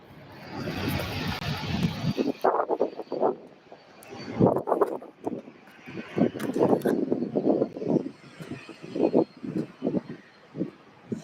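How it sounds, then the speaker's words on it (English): A UPS cargo jet, a 17-year-old airframe, departs Louisville airport bound for San Juan. A loud, steady broadband engine roar fills the first two seconds, then gives way to choppy, gusting noise that rises and falls. "you all are looking at UPS flight 7928 heading out to San Juan, SJ Airport"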